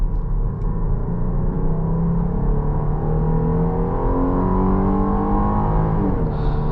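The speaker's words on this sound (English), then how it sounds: "Put it into sport mode, a little bit of acceleration for you guys." A 2023 Jeep Grand Cherokee L V6 engine revs steadily upward under hard acceleration in sport mode, a continuous loud drone climbing in pitch before shifting near the end, heard from inside.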